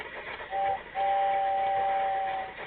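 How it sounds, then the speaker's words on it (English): A two-tone train whistle from a computer-controlled model train demo, a short toot followed by a longer sustained blast over a low rumbling background, clear and close. "Every train's got a whistle."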